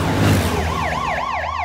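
An ambulance siren wails close by, its pitch sweeping up and down in a repeating cycle over a low rumbling engine.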